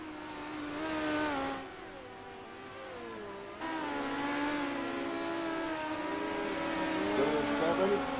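Midget race cars snarl around the Knoxville dirt oval, engines rising and falling in pitch as they pass through the turns, a fairly steady roar with commentary audible over it.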